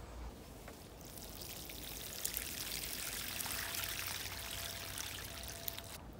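Water pours steadily onto a freshly planted Hakuro Nishiki willow on a stem, filling a soil basin around the root ball with a continuous close splashing gush, no talk.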